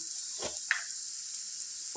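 Onions and green chillies fry in a pan with a quiet, steady high sizzle, a couple of brief stirring scrapes and a faint tick near the start, no voices.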